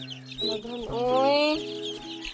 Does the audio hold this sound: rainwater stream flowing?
no